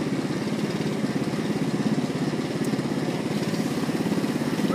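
A hacked go-kart runs with a steady, buzzing engine drone that pulses rapidly and evenly, loud and close, with no speech over it.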